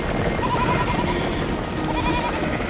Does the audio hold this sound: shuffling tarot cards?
no